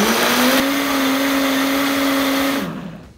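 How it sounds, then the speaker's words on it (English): Countertop blender whirring steadily as it purees cashews with coconut milk for vegan yogurt, a loud continuous motor whine that holds for over two seconds, then spins down and cuts off. "So we're just gonna blend up."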